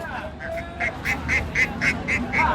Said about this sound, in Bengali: হাঁস মুরগির হাট আমরা দেখানোর চেষ্টা করি। উত্তরবঙ্গের সবচেয়ে বিখ্যাত হাট, হাঁস, মুরগি, রাজহাঁস, চীনা হাঁস, সব ধরনের